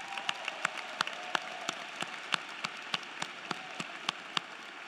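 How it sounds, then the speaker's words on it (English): A graduation crowd at Duluth High School in 2023 applauds the parents; distant, sparse claps ring out over a soft wash of crowd noise in a large venue. "let's give your parents a round of applause"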